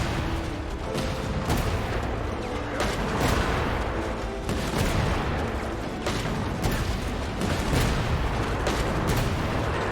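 Rockets fire in rapid succession in the video game Genshin Impact, a dense continuous barrage of booms and blasts that stays loud throughout the stretch.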